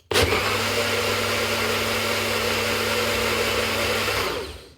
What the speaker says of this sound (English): If you guessed a blender making a milkshake or smoothie, you're spot on.